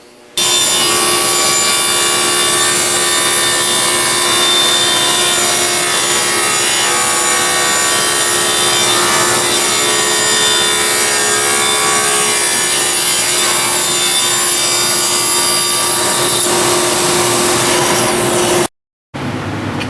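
A power saw cuts walnut stock for 22.5-degree mitered trim in a woodshop, with a loud, steady whine and sawing roar that runs almost without a break and then stops abruptly near the end.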